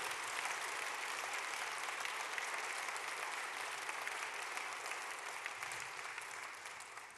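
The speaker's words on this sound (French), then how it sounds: "Et je vous demande de tous bien vouloir les applaudir, s'il vous plaît." Sustained applause from the audience at a speech at the CESE, a steady, dense wash of clapping that holds at an even level and eases off slightly toward the end, with no talking over it.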